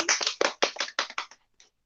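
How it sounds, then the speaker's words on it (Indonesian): Short, close burst of hand clapping in a classroom storytelling exercise, about eight quick claps that stop abruptly, with a faint final clap after a pause. "tepuk tangan dulu buat Mas Ivan."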